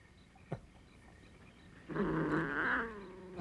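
A cat growls in a low, rising snarl lasting about a second, preceded by a brief sharp knock and heard alone without talk.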